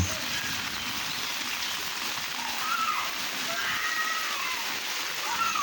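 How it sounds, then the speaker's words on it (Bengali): Steady, dense rain pouring down and pattering on surfaces of a flooded yard and road, with faint distant voices now and then. "প্রচুর বৃষ্টিপাতে রাস্তাঘাট পুরো ডুবে গেছে।"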